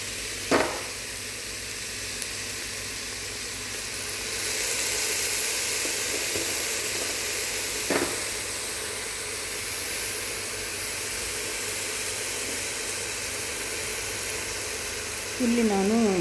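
Rice fries in a pan with fenugreek leaves, giving a loud, continuous hiss and sizzle with a few sharp clinks, and a voice comes in briefly at the end.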